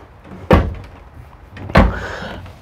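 A cupboard door in an RV kitchen shuts twice with solid wooden thuds, about a second apart, close by in a quiet room.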